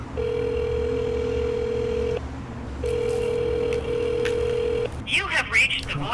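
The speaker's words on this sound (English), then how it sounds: "I'm gonna put her on speakerphone" A phone call on speakerphone rings out with two long steady ringback tones separated by a short gap, clear and close, followed by a brief clatter.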